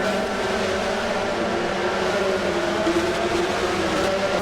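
A kart engine in Gran Turismo 7 drones at a steady, high-pitched buzz, holding revs continuously with a slight rise and fall, loud and alone without any voices.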